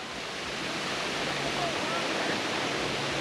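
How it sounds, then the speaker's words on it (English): Waterfall on the Roaring Fork Motor Nature Trail, a steady broadband rush of falling water heard at moderate distance and holding constant for the whole stretch. "Well, we got a little bit of waterfall in here."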